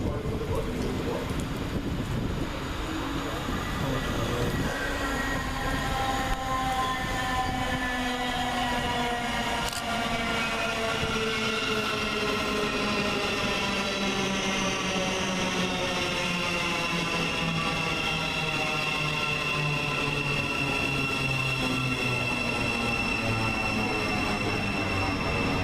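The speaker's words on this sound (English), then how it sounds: "Next into the station is 700 149, working the 1139 Govia Thameslink service from Brighton to Bedford." A Govia Thameslink Class 700 electric multiple unit pulls into Flitwick station on a Brighton to Bedford service, its motors whining in steady rising and falling tones with rail noise and wind, continuous and fairly near for the whole stretch.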